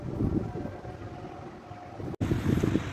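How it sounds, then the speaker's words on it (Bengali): Strong wind sweeps across a rooftop, buffeting the microphone with low, gusty rumbling that briefly cuts out near the end before roaring back. "অনেক বাতাস।"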